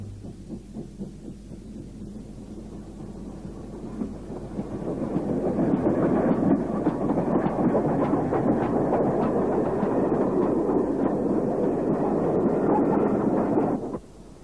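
A Great Western Railway 6100 class 2-6-2 tank steam locomotive rumbles past, rising from a distant hum to a loud, close clatter of rolling wheels before cutting off abruptly.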